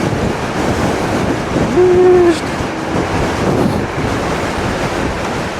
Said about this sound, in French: Le vent qu'il y a